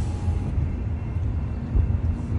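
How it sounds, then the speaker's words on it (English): An Amtrak passenger train rumbles past nearby, a steady heavy low roar and clatter holding throughout the short stretch with no talk. "Stop the Amtrak train."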